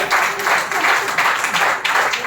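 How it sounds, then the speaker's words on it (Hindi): An audience at an International Women's Day ceremony applauds, with loud, close clapping swelling in several quick waves and a voice heard faintly beneath it. "ये उसके लिए ताली"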